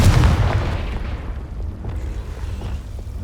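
Confringo, an explosive fire spell cast in the video game Hogwarts Legacy, lands as one loud booming blast that rolls off into a fading low rumble with crackling debris, no voices.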